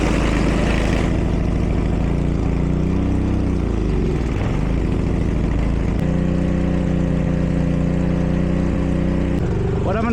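A repaired small engine with a freshly cleaned carburetor runs steadily and loudly for the whole stretch, a continuous droning idle with a brief wavering of pitch midway before settling into an even hum.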